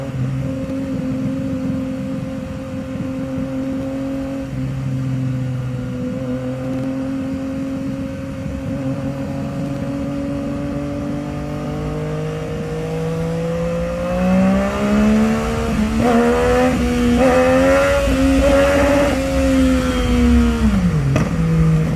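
A motorcycle engine hums steadily, then revs higher and rises in pitch near the end as the rider tries a wheelie on a road. The engine is close and fairly loud throughout.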